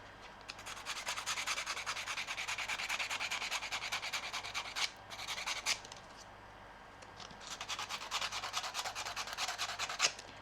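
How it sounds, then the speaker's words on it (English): Sandpaper is rubbed across paper to make a wooden-look card background, giving close, rapid, rhythmic scratching strokes in two long bursts separated by a brief pause. "So you are doing this paper sanding."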